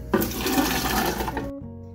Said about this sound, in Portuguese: Começando aqui por uma lata de milho verde, ainda com a água, a gente já vai colocar aqui no nosso liquidificador.